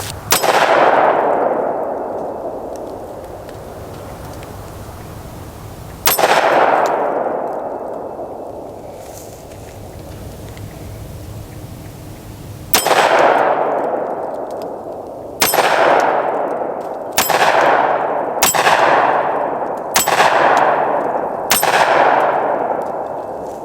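Shots from a Glock 33 Gen 4 pistol at the range: eight sharp ringing clangs on steel, each leaving a long metallic decay. The first shots come several seconds apart, the later ones close together.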